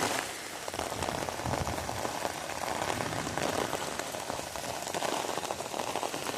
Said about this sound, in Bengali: তুমুল বৃষ্টি এসে তুমুল।